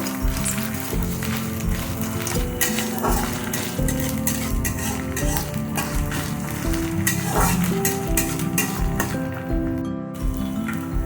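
A spoonful of ginger paste is stirred into fried onions in a pan, a loud, busy sizzle broken by repeated scraping strokes and clinks of the spoon against the pan.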